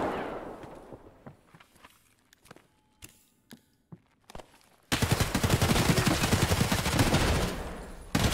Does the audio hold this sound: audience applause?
no